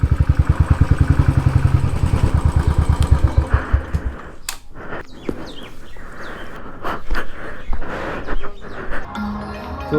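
A Royal Enfield Thunderbird motorcycle engine thumps close and loud in a steady, even idle beat for about four seconds, then cuts out, leaving quieter outdoor ambience with scattered knocks and shuffling.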